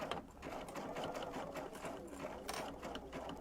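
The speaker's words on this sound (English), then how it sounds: "so we're just going to sew this down." Sewing machine stitching down a fabric travel pillow, a steady close mechanical whir with rapid needle chatter running continuously and alone.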